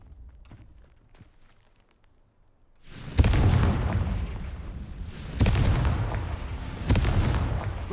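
Confringo blasting spells in Hogwarts Legacy shatter vases with heavy booms: three loud bursts, each with a rumbling tail, follow a quiet stretch of faint ticking.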